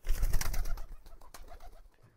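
Pigeons in a home loft coo, a few low soft throaty calls close by in the first second, then quieter fluttering and shuffling, with no talk.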